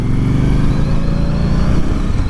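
An Indian Scout Bobber motorcycle cruises along with a loud, steady, throbbing engine rumble, heard up close without speech.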